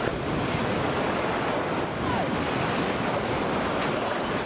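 Steady roaring ocean surf and waves on a New Zealand shore where a stranded orca is being rescued, a loud continuous wash of water with wind buffeting the microphone throughout.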